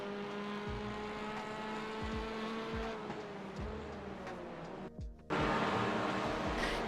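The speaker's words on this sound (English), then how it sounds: "how not to accelerate into the front straight on cold tyres" A touring race car in the iRacing sim at Sebring, accelerating on cold tyres, engine climbing in pitch through repeated upshifts, with a brief drop near the end before a louder surge.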